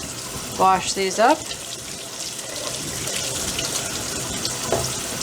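Bell peppers rinsed in a colander under a running kitchen tap, a steady hiss of water continuing beneath a short spoken phrase.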